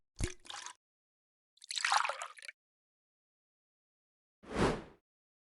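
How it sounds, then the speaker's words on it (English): Milk is poured into dough in a cooking game, heard as three short, separate wet splashy bursts with silence between them. "Pour milk."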